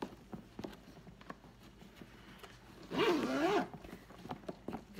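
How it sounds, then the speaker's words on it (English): Zipper on a Coach Central Tote 39 leather tote sliding open and closed in one smooth pull lasting under a second, close and clear against quiet room tone with faint handling taps around it. "Very smooth zipper."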